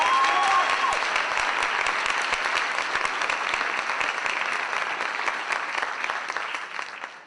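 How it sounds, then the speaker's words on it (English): Applause from a jazz workshop concert audience fills the room, a thick sustained patter of many hands clapping at an even level before gradually thinning toward the close. "Please give a round of applause to Scott Bell."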